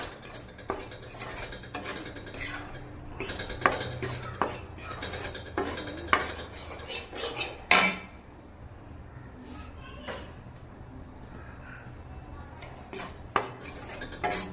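Ragi flour dry-roasts in a pan for millet laddu, heard as repeated scraping and clinking of a metal spoon against the pan in an irregular rhythm, with a louder knock partway through and no talking.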